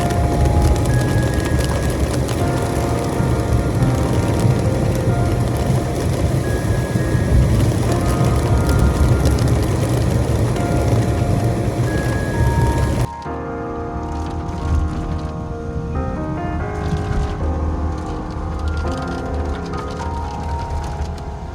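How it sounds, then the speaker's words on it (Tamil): Heavy rain pounds on a car in the Bisle Ghats near Mallali Waterfall, a dense continuous drumming roar that suddenly drops to a quieter, more scattered patter of drops partway through. "ஸோ கைஸ், ரெயின்ஃபால் வந்து ரொம்பவே அதிகமாகிடுச்சு."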